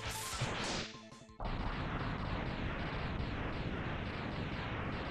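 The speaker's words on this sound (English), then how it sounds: "it's just an explosion on one side of the screen" A loud, sustained crashing explosion from the Mega Man X video game, a heavy roar that briefly drops away and then bursts back in, continuing as dense rumbling noise to the end.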